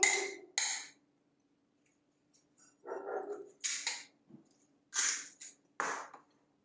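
A dog barks in short, sharp bursts, about half a dozen barks in uneven clusters with quiet gaps between them. The barks are fairly close, with no talking.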